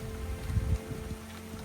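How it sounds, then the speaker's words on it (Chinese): Heavy rain and gusting wind of an approaching storm at a rural home, a dense steady wash of drops with low rumbling gusts swelling early on, loud and close, no voices. "哇，狂风暴雨要来了！"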